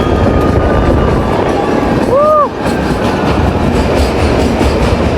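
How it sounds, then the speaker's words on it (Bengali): The Kalka–Shimla toy train climbs slowly uphill in a loud, steady rumble of wheels and carriage noise, with one brief rising-falling whistle-like squeal midway. "আস্তে আস্তে পাহাড়ের ওপরে উঠছে আমাদের ট্রেন"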